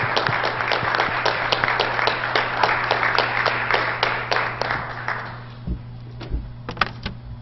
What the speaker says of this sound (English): So would you give them a hand of applause?